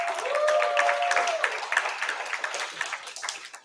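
Graduation ceremony audience for a film and media program gives a round of applause, dense clapping filling the hall at moderate level and tapering off, with a voice briefly audible near the start.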